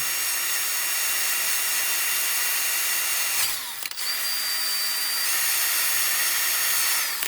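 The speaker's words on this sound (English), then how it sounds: "All we are doing here is simply letting the wire touch or brush up slightly against the surface" A power-driven wire wheel lightly brushing the lower oil pan mating surface of a 2013 Dodge Grand Caravan gives a steady, loud whirring scrape, briefly interrupted midway before resuming, with no voices.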